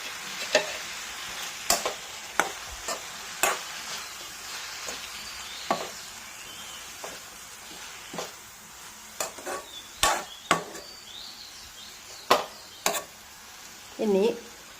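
Drumstick thoran with grated coconut and turmeric is stirred in a pan over a low sizzle, with a spatula knocking sharply against the metal at irregular intervals, close by.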